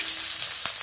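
Onion frying and sizzling in hot oil in a kadai, a loud, close, continuous hiss with faint crackles.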